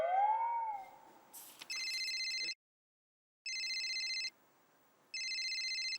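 An electronic telephone rings in three evenly spaced bursts of warbling tones, clear and close, after a brief faint meow-like sound at the start.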